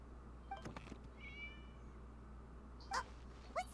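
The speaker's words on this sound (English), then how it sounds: "It was just a cat." A cat in Genshin Impact meows a few short times, one cry early and two more near the end, clear and mid-level over quiet game ambience.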